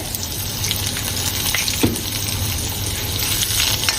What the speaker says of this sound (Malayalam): ഇനി ഇതിലേക്ക് നമുക്ക് കുറച്ച് കായപ്പൊടി ഇടാം.